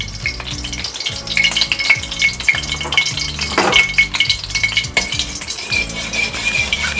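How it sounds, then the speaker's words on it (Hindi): Ghee poured into a hot kadhai crackles and sizzles steadily, with occasional metallic clinks of a spoon against the pan, close and fairly loud with no talking. "इसी कढ़ाई में अब हम एक बाउल घी या 2 बड़े चम्मच घी इस तरह से डाल देंगे"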